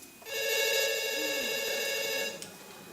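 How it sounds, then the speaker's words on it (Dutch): A telephone rings in one sustained, steady electronic trill lasting about two seconds, loud and close, during a stage revue performance, with no talk over it. "Oh, Dat is mijn telefoon."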